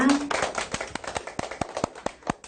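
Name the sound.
clapping to start the lesson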